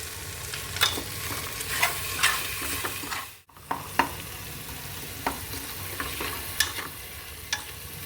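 Khichdi with red chili fries in a pan and sizzles steadily, while a spoon scrapes and stirs in irregular close-up strokes, with one brief pause.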